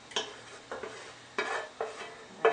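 Mushrooms being stirred in a pan for eggplant parmesan: soft scraping stir strokes come in about five separate bursts over a faint sizzle, close and fairly quiet.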